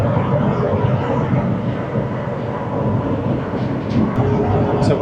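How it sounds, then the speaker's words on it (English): Steady broadband rumble and hiss inside a high-speed bullet train running from Wuhan to Zhangjiajie, a continuous loud cabin roar with no voices. "So we're currently on the high-speed train."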